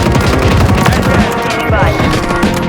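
Dense video-game gunfire, a continuous fusillade of rapid automatic shots with booms layered underneath, loud and close throughout, while voices call out over the shooting.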